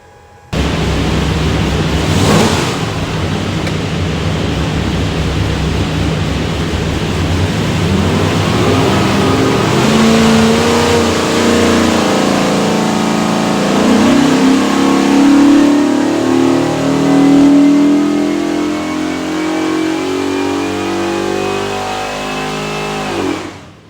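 A 427 cubic inch small block Ford V8 with a hydraulic roller cam and rear sump oil pan, run on an engine dyno, roars loud and steady, its pitch sweeping upward in one long sustained pull before cutting off.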